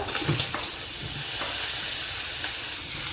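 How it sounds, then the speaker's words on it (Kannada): Onion, tomato and ginger garlic paste frying in a pan for palak paneer produce a loud, close, continuous sizzle and hiss with a few small pops. "ಸ್ವಲ್ಪ ಫ್ರೈ ಮಾಡ್ಕೊಳ್ಳೋಣ."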